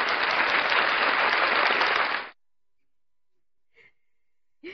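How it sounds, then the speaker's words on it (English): Burst of applause and cheering at an online Discord party, loud and continuous for about two seconds before cutting off abruptly into near silence with a couple of faint small sounds afterward. "Let's give a round of applause to our coolest admin in NROUND."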